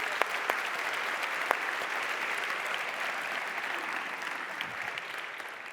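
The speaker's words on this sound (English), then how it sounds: "give yourself a round of applause" Audience at a city-planning conference session applauding itself, a sustained even patter of many hands with a few crisp claps up close, fading slightly toward the end.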